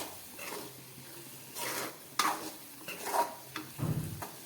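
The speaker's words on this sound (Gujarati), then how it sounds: "હવે આપણે આ રીતે હલાવતા રહીએ અને બેસન સાથે મરચાંને થોડી વાર માટે પાકવા દેશું." Chillies with gram flour are stirred in a pan over heat, giving soft scraping strokes and light sizzling, close by and fairly quiet, with occasional clinks of the spoon against the pan.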